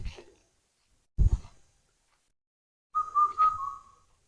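A single clear whistled Indian cuckoo phrase rings out after a pause, preceded by a couple of dull thumps, on Nilachal hill in Cumilla.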